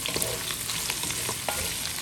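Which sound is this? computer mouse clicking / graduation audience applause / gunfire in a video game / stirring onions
stirring onions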